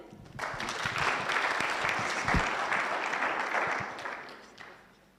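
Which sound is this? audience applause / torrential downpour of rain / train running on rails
audience applause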